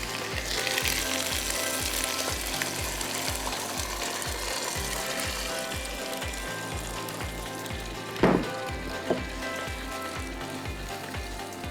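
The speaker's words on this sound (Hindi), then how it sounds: "इसको आप ज़रा थोड़ा सा इस तरह सौटे करिए, और गोश्त जो है उसको आप डाल दीजिए" Meat and whole spices such as cardamom and cloves sizzle in a pot, a steady frying hiss over a rhythmic mechanical clicking, with a couple of brief clinks near the end and no talking.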